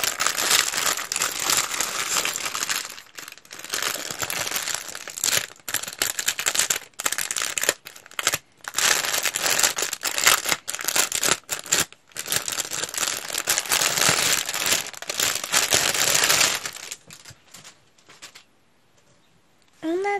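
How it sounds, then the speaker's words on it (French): Packaging around a canvas print is pulled off and unwrapped, a close, loud crinkling and rustling that runs almost steadily for about seventeen seconds before dropping to near quiet. "Et on va enlever donc tout ça."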